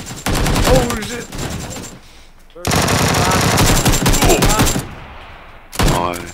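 Bursts of automatic gunfire in the video game PUBG, loud rapid volleys with a brief pause and a final short burst, with some player chatter mixed in.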